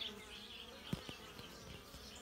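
Honeybees buzz continuously in a low, faint hum at a hive entrance, with a few individual bees zipping close by.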